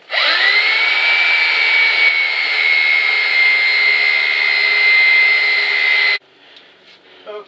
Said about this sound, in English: I finished sanding everything. I used a 220 grit sandpaper, and I rounded off the edges.